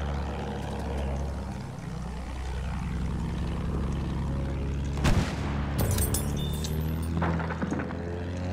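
A WWI airplane engine drones steadily in Battlefield 1, its pitch sweeping as the plane maneuvers, then anti-aircraft fire bursts in loud booms and crackles near the end.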